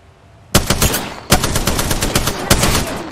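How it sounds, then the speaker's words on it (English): Automatic weapon fire from Apex Legends, loud and close, in three rapid bursts of tightly spaced shots with no talking over them. "Getting shot at."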